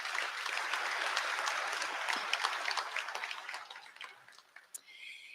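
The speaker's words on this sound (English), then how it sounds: "Please give them a round of applause." Applause from a crowd at a college commencement ceremony, a sustained wash of clapping that fades in its last seconds into scattered individual claps.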